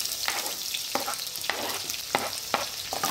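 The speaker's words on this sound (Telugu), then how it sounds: "వీటిని కూడా బాగా బ్రౌనిష్ వచ్చేంత వరకు వేయించుకోండి" Onions fry in a pan for tomato pappu with a steady, dense sizzle. Several soft stirring scrapes interrupt it at irregular intervals, close and moderately loud.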